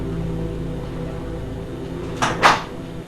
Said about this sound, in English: opening the garage door again